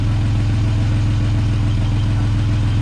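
A Jaguar S-Type engine idles close by with a steady, even, low rumble and a regular pulse, loud and alone.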